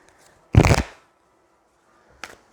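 Oracle cards are shuffled for a reading in two quick bursts: a loud riffle lasting about half a second, then after a pause a shorter, softer shuffle. No one speaks.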